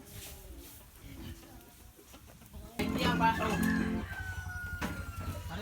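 A chicken on a farm calls out loudly partway through, amid quiet outdoor background and some nearby voices.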